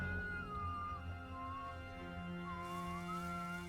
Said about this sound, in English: whoever is aggressively whistling right now